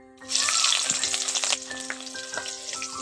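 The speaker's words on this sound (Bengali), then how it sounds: "পেঁয়াজটাকে একটু বাদামি করে ভেজে নেব" Chopped onions sizzle loudly in hot oil over tempering spices, a steady crackling hiss with stirring scrapes, close up and without speech.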